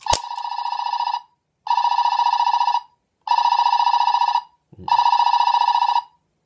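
A Dekaranger Master License toy in phone mode plays its electronic calling tone: four loud, evenly spaced bursts of a steady warbling ring, each about a second long, with short gaps and a faint click near the end.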